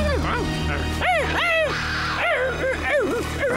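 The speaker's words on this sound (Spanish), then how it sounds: "¡Perritos!" Puppies in a Spanish-dubbed Simba cartoon yipping and barking in a rapid series of high, close barks over a steady background hum.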